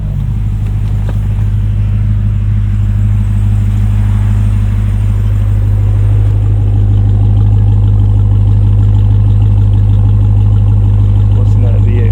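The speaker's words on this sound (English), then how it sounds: "Listen to that V8 rumble." A Ram TRX heavy pickup's V8 idles close by, giving a steady, deep, even rumble that holds without a break throughout.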